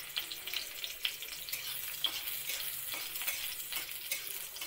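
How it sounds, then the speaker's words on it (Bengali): Whole garlic cloves fry in hot oil in a heated wok for a chutney, giving a steady, fairly quiet crackling sizzle with small pops and occasional stirring scrapes, no voices. "গোটা রসুনটা দিয়ে দিই তেলের মধ্যে।"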